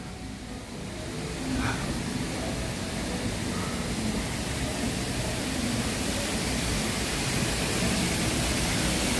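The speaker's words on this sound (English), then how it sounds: "I hear running water." Steady broadband rush of running water, like a stream or waterfall, fills the whole stretch at a constant moderate level, heard outdoors along an animal exhibit path at Disney's Animal Kingdom.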